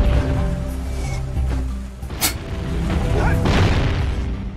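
A bomb bursts in the Jak and Daxter game on Sentinel Beach, one sharp boom over a steady game soundtrack, followed by rumbling debris.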